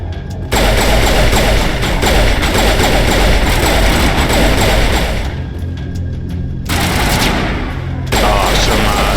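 Defense turrets open fire in the video game Mass Effect, a loud, dense fusillade of rapid shots over a heavy low rumble that drops out briefly, then resumes.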